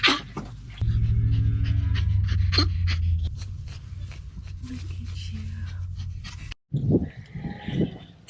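Goats on a small homestead bleat and pant close by, with a long low bleat near the start, then rapid breathy panting and scattered calls, and a short break before more bleats.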